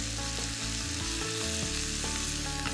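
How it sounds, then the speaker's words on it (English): Prawns fry in a hot pan with a steady, close, continuous sizzle, with faint stirring movement underneath and no talk. "while they're cooking, I'm just going to turn them over"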